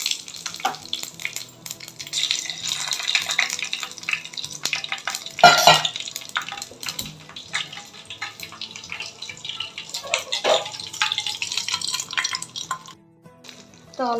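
Mustard seeds and two dried red chilies temper in a spoonful of hot oil for a tomato gravy, giving a steady crackling sizzle with stirring and scraping throughout and a few louder pops near the middle.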